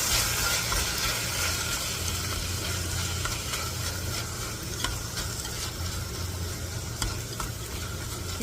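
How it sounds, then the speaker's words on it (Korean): Kimchi is stir-fried in a pot over medium heat for a tofu kimchi stew, a loud, constant sizzle filling the whole stretch, with occasional light scrapes and taps of the utensil close by and nobody speaking. "김치를 이렇게 살짝 볶은 다음에 지져주도록 할게요"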